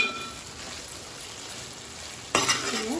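Colocasia (taro) curry with turmeric stirred in a pan, a faint steady sizzle for most of the time, then a sudden louder scraping stir near the end, close by and without speech.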